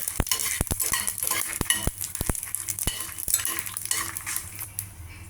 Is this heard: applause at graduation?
no